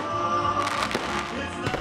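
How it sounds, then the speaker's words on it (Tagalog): A Christmas fireworks display at a heritage tree lighting in Villar City, Las Piñas, heard as a dense, continuous rumble of bursts and crackling pops with a few sharper cracks. "Feel na feel ang Pasko, lalo't may pa-fireworks display pa."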